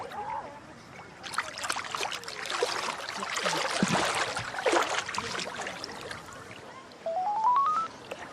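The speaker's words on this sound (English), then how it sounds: "Phone." A mobile phone rings out in the Dead Sea in Jordan, where someone is floating: a short rising electronic ringtone comes in near the end after splashing and trickling water.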